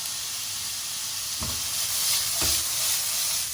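Mullet fillets sizzle steadily in a saute pan, with two sharp bursts of hiss as the fish is tossed, a loud close frying roar throughout with no talk.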